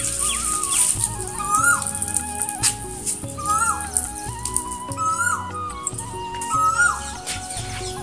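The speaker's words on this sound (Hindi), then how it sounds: "छत पे ना कोयल की बहुत प्यारी सी आवाज़ आ रही है तो आप लोग भी सुनिए" An Asian koel calls from a rooftop, repeating a rising whistled note about every second and a half. The calls come over a dense, continuous background of other sounds.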